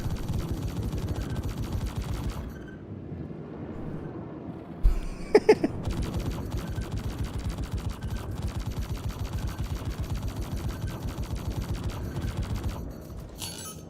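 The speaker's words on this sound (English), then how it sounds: "Oh, he's got a turret!" Rapid automatic turret gunfire in a combat video game, dense continuous bursts of shots hammering loudly, with a brief pause and a sharp louder crack partway through before the firing resumes.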